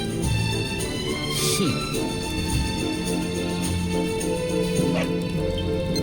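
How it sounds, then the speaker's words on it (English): A dog barking and yipping in Dragon Quest XI, several short yaps and a whimper over continuous game music. "No! No! Not a dog!"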